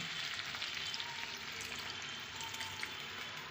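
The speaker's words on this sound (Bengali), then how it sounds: "আর এখন একটু দেব অল্প পরিমাণ জল যেহেতু আলুগুলো দিয়েছি সেই জন্য কষানো ভালোভাবে কমপ্লিট এখন দিচ্ছি অল্প পরিমাণ জল" Chicken kosha with small potatoes sizzles steadily in the pan as a little water goes in, a continuous bright frying hiss at a low, even level with no voices.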